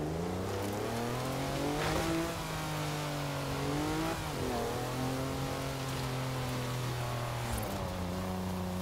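A car driving in the racing game Forza Horizon 4, its engine holding a steady, clear tone that rises and dips with throttle changes, alongside a constant hiss of road and tire noise, with no talking.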